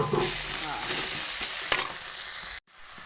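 Tomatoes with turmeric, red chili powder and salt fry in a hot pan, a loud close sizzle with a sharp stir-scrape partway through, then a sudden cut to near silence before a quieter hiss returns.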